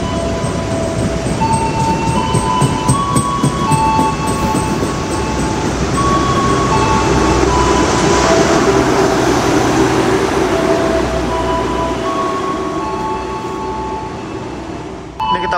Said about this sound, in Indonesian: Ini ada kereta api yang mau lewat ya.